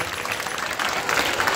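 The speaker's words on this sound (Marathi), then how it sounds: "मुलांसाठी सुंदर टाळ्या" Children's audience applauding in a music education session, a steady dense wash of clapping that swells slightly toward the end, with no voices standing out.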